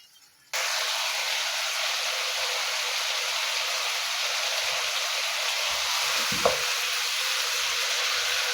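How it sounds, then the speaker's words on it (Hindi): Mutton and spices frying in a pot: a steady, loud hiss of sizzling that starts abruptly and runs on continuously, with a brief clink of stirring near the end and no voices. "गोश्त और मसालों की हमने अच्छी तरह से बुनाई कर ली है"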